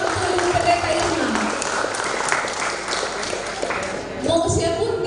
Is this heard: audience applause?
yes